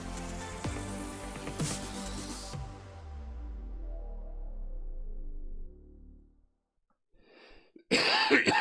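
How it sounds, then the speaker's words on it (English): A person coughs hard and repeatedly in a loud close burst, followed by a fading ringing tail and quiet. Near the end come a short throat-clearing and another loud cough. "I'm so sorry for the coughing"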